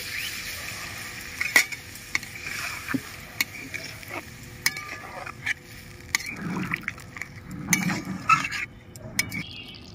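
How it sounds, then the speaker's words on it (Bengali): Water poured into a pan of sizzling spice paste for Bengali potoler dalna (pointed gourd curry), with scattered spoon-on-pot clinks and scraping as it is stirred, moderately quiet and close. "মশলা থেকে তেল ছেড়ে দিয়েছে, এবার আমি পরিমাণ মতন জল দিয়ে দিচ্ছি।"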